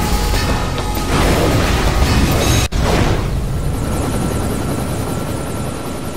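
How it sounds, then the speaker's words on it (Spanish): Helicopters roar in during a mission of the Iron Man 2 video game, a loud, dense rotor and engine wash filling the whole clip, briefly cut by a sharp break midway before continuing steadily. "Y entraron los helicópteros también."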